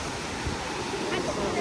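Big sea waves rolling onto a beach at sunset make a faint, steady wash of surf with wind buffeting the microphone, low and continuous.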